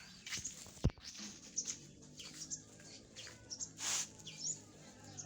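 Young pigeons chirp and tweet in short, scattered calls, some sharp and high, with a faint rustle and flutter in between.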